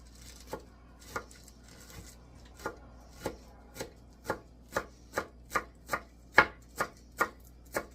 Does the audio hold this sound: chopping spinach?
yes